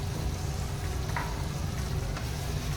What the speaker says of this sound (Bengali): এটাকে এবার আমি বেশ কিছুক্ষণ কষিয়ে নেব।